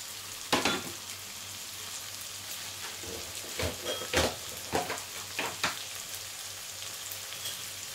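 Prawns sizzle in a hot pan for a shrimp macaroni dish, a steady frying hiss broken by several sharp crackles and spatters, with clattering stirring noises.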